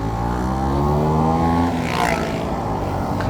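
A classic Vespa Sprint 150 scooter is ridden on a busy road, its small engine droning loud and close with a buzzy tone whose pitch climbs steadily, with a brief rush of wind or passing traffic.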